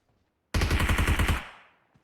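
A rapid burst of automatic gunfire in PUBG Mobile, aimed at a bot: about ten quick, loud shots in under a second, then a fading echo.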